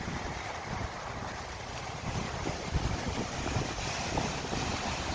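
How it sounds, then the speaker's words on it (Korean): Steady broadband roar of high surf washing onto Songjeong Beach in Busan before a typhoon, with wind buffeting the microphone; continuous and fairly loud, no voices. "수영 어제보다 파도가 확실히 높네요"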